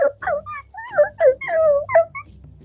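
A human voice imitates a dog crying and whimpering, with a string of close, high, whiny cries that rise and fall over a few seconds.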